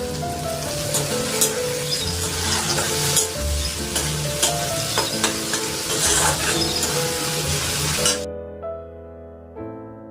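Tomato dropped into spices frying in oil for a Bengali kochur loti and prawn dish, a loud close crackling sizzle with stirring scrapes that cuts off abruptly near the end, leaving a faint tone.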